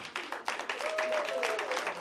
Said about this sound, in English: please, now, round of applause